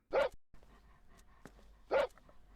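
A dog in the horror video game Jon's Dog barks twice, two sharp close barks about two seconds apart with quiet in between.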